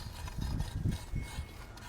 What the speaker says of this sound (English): I'm just gonna rake this out real quick.